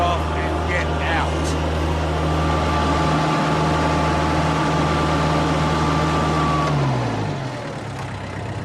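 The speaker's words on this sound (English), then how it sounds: "Turn the motor off and get out." A machine motor runs steadily and loudly close by, a low constant drone that winds down near the end as the motor slows and stops.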